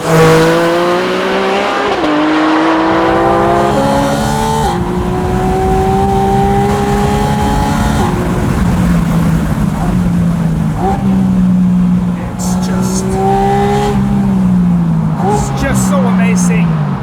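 A Porsche Spyder RS engine revs loudly and continuously, climbing and shifting through gears in repeated rising sweeps, close and sustained throughout.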